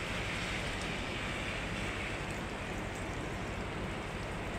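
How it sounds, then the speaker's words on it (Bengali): A distant waterfall in a Himalayan valley in North Sikkim, heard as a steady, unbroken wash of rushing water that fills the whole space without any change in level. "এই যে ঝর্ণাটা পড়ছে দূর থেকে, এই ঝর্ণার আওয়াজে"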